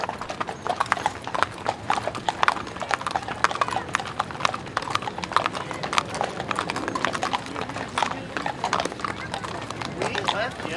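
Cowboys ride horses through Washington D.C., their hooves clip-clopping in a dense, continuous patter on pavement, close and loud, with crowd voices beneath.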